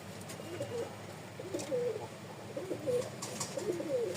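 Pigeons coo repeatedly in soft, rolling phrases over a low steady background hum, several birds calling close by with brief pauses between coos.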